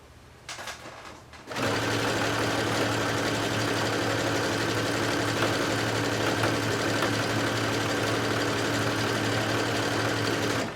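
A sewing machine stitches through four layers of swimwear fabric, starting after a brief quiet handling moment and then running as a steady, continuous close mechanical whir.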